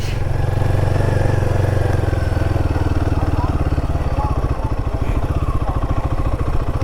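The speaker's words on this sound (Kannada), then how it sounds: "ಫುಲ್ ಇಂಜಿನ್ ಹೀಟ್ ಆಗಿಬಿಟ್ಟಿದೆ, ಫ್ಯಾನ್ ತಿರುಗ್ತಾ ಇದೆ." An overheated vehicle engine runs steadily with its cooling fan spinning, giving a loud, continuous low rumble with a rapid mechanical pulse. Faint voices may sit underneath.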